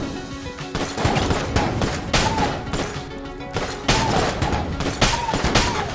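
Rapid bursts of gunfire from a gun in the bullet-hell game Enter the Gungeon, repeated volleys of sharp shots in an uneven rhythm over busy game effects.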